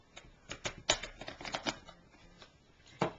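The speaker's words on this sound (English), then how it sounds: "I'm using the Tim Holtz tonic scissors. Go ahead and cut your circle out." Tim Holtz Tonic scissors snip around a paper circle in a run of quick, close, crisp cuts with brief pauses between them, then one final snip.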